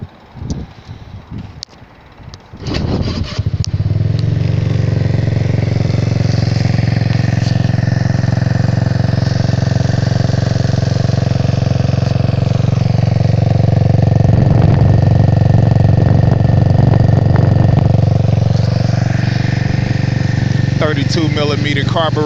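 A GY6 stroker scooter engine, bored out to 193cc with a Taida 4-valve head and fed by an electric fuel pump, on its first start-up. A few cranking clatters lead into a loud, steady, close idle that holds to the end.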